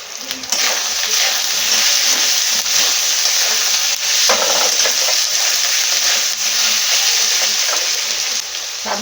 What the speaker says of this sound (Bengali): কুচনা টমেটো দিয়ে দেবো